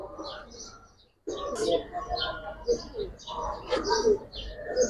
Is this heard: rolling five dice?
no